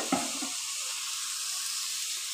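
Grated cauliflower tipped into a hot pan: a short burst of contact noise at the start, then a soft, even sizzle that carries on alone at moderate level.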